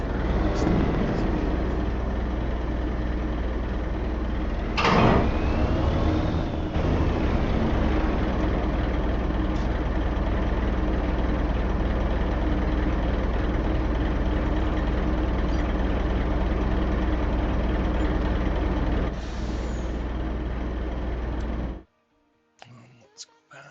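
Farming Simulator 25 truck idling at a steady, continuous low drone that holds for about twenty seconds, with a brief louder bump near the start, then cuts out abruptly near the end.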